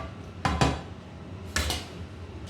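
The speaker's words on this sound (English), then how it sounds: "give it a stir every now and then so that it will be cooked" A few clattering knocks of a utensil against a pot of blanching vegetables, two short pairs of clinks about a second apart, close and moderately loud with quiet between.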